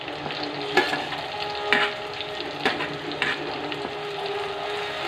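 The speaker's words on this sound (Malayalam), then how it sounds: "ഇനി നമുക്ക് ചതച്ച് വെച്ച ഉള്ളി ഇട്ട് കൊടുക്കാം." Crushed onion frying in hot oil with fenugreek for a Kerala-style curry, a constant close sizzle punctuated by several sharp spoon-and-pan stirring clatters.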